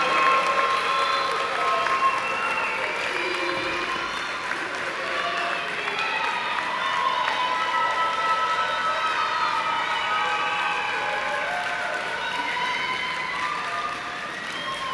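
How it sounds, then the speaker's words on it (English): A graduation commencement audience at Chamberlain University applauds guests and family, a steady, dense wash of clapping from a large crowd sustained throughout, with faint cheers mixed in. "give them a round of applause for their continued support and encouragement during this journey"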